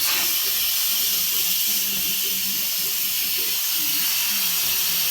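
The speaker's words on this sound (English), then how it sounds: "what I got to do now is let the steam off it" Steam hisses steadily and loudly out of an Instant Pot's pressure valve after cooking a crab boil, a continuous broadband rush lasting the whole stretch, with faint low murmuring underneath.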